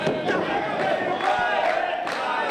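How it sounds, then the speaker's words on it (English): Wrestling crowd at a pro wrestling show chanting a wrestler's name in rhythmic bursts, a loud mass of voices rising and falling across a few seconds. "No, they're chanting Jeremy Wyatt."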